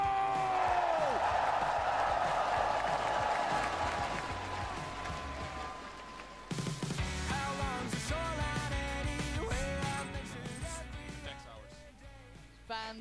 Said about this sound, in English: Let me hear you make some noise. Give it up here for Masters Toronto!